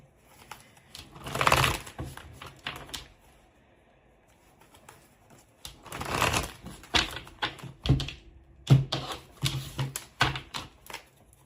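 Rapid riffling and clattering of tarot cards being shuffled close up, in several bursts separated by brief pauses.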